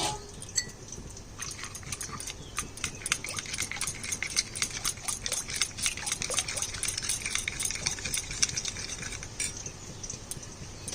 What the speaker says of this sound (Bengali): একটু জল দিয়ে গুলে দিয়ে দিই।